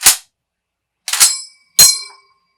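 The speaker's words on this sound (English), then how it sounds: "It's always good to have an M1 Garand ping, right?" Three sharp metallic pings from an M1 Garand rifle cycled with 3D printed snap caps, each a bright clang with a short ringing tail, spaced irregularly with silence between them.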